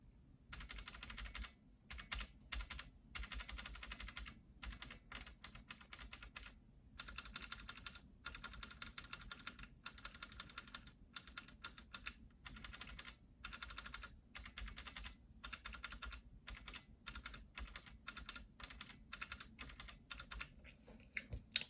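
Kailh clicky clickbar keyboard switches from the BOX and Speed lines, including Speed Bronze, some lubed and some not, typed in rapid bursts of crisp, sharp clicks with short pauses between runs, close and loud with no voices.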